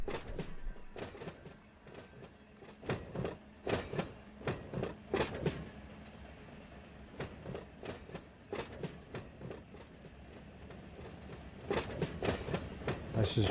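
A BNSF ES44DC diesel hauling a high-priority intermodal freight train in Run 8 Train Simulator, with steady rolling rumble and repeated rhythmic clickety-clack of wheels over rail joints, moderately quiet and continuous.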